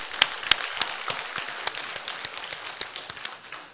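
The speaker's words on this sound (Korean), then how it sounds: "우리 주님께 감사의 박수를 합니다." Applause breaks out from a church congregation at a Sunday service, sparse and uneven, with a few sharper nearby claps standing out before the clapping thins and fades.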